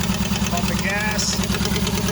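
A 1988 Nissan Sentra's E16i engine runs with a steady, rough mid-pitched drone and regular pulsing, close up, while someone talks over it.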